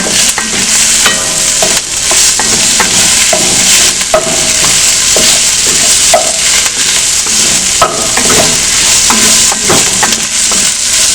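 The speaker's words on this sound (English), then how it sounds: "Give it a good stir." Utensil stirring ginger, garlic and onions frying in a pot for chickpea stew, a steady loud sizzle with repeated scraping and clinking strokes close by.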